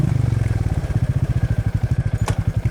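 A Royal Enfield Meteor 350 motorcycle engine runs at idle, close and loud, with a rapid, even single-cylinder thumping pulse and a faint metallic tick near the end.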